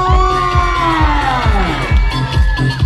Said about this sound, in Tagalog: Isang malakas sa palakpakan na may sigawan!